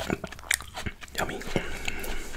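Sweet grapes being bitten and chewed from a fruit platter, with crisp close bites followed by wet mastication, mixed with a voice speaking softly nearby.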